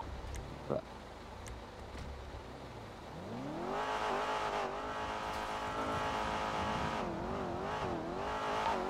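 Several car engines rev and rise in pitch in a roleplay video game, loud and close, with harmonic whines sweeping up and down over a steady rumble.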